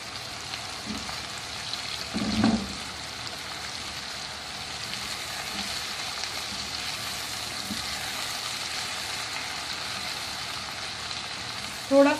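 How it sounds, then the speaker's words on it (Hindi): Ginger garlic paste sautés in a pan with a steady, soft sizzle and faint frying crackle across the whole stretch, plus one brief clatter near the start and another knock at the end. "थोड़ा सा इसको सौते करूँ।"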